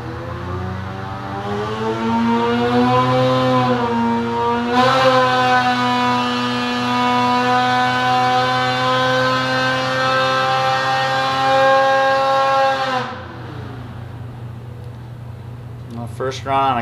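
A Ski-Doo 850 snowmobile engine fitted with a Bikeman kit runs on a cold pipe, holding a loud, steady high rev with a strong harmonic drone, then rising sharply around midway and dropping back near the end.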